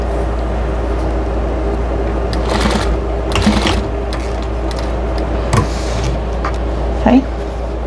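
A sewing machine bastes a fabric chicken potholder with a steady low motor hum running continuously, a few brief clicks and rattles on top, up close.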